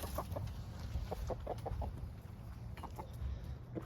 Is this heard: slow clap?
no